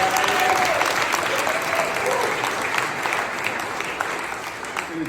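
Sustained audience applause at a retrospective concert, a dense, steady wash of many hands clapping that stays loud throughout and tapers only slightly, with faint voices mixed in.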